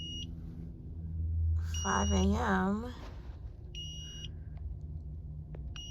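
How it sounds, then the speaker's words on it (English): A power inverter at a freezing winter campsite emits short high-pitched electronic beeps in brief repeated bursts over a steady low hum, with a person speaking between them. "there's a beeping sound coming from my inverter"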